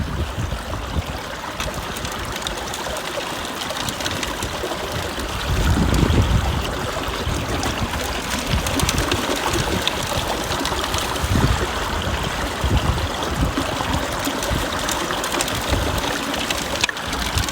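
River water rushes steadily over hand-held gold prospecting gear, a loud, close, continuous wash with splashy surges and no talking.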